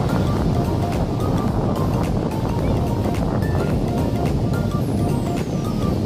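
Ocean waves at Petanahan beach roll in as a continuous loud wash of surf, heavily mixed with wind buffeting the microphone, with no clear breaks between swells.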